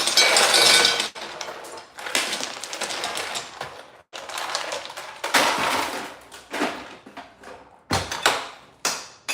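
Ice cubes being grabbed and dropped into cold water, a close run of loud clinks, rattles and crunchy bursts separated by brief pauses, with no talk.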